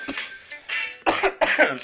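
A fit of harsh, hacking coughs after a cannabis dab hit, several bursts in quick succession, close and fairly loud, with rough throaty breaths between them.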